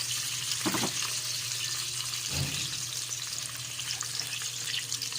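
Pork sizzles steadily in a hot pan, a dense, even frying hiss close by with a couple of brief stirring or scraping bursts and no voices.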